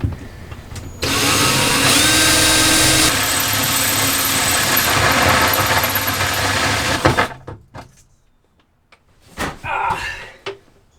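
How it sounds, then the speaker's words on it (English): A loud power drill with a 7/8-inch hole saw bit grinds steadily through material for several seconds while installing boat electronics, then stops, followed by a few scattered knocks and clunks. "I'm using a 7/8 hole saw bit. I'm gonna drill a new hole and run it through"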